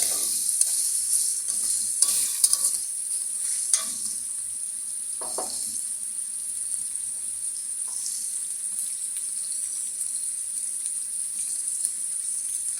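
Noodles frying in a pan at home give off a steady, loud sizzling hiss throughout, with a few brief stirring scrapes near the start and no talking.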